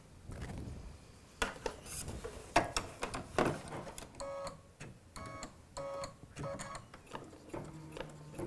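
Embroidery machine stitching out a fabric dangler with no tape, bursts of rapid mechanical needle clatter broken by short pauses and clicks, close and moderately loud.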